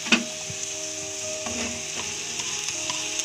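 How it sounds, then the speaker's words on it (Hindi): Boiled potato stirred into spiced samosa filling in a hot pan makes a soft continuous sizzle with occasional light spoon taps and scrapes, close and fairly quiet, with no talk. "यह आलू हमने डाल दिया इसमें, और अच्छी तरह से मिक्स करना है इसे"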